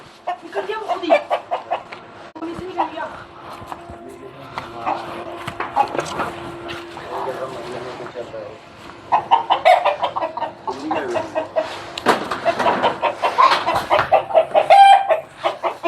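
Roosters and chickens are lifted and moved from one cage to another. Their clucks and squawks come up close, busy and irregular, and grow louder toward the end, while people talk throughout.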